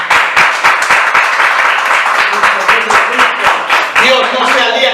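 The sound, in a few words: congregation applause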